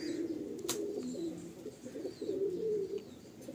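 A pair of show pigeons coo in low, steady rolling phrases, close and clear, with a faint higher chirp partway through and no voices.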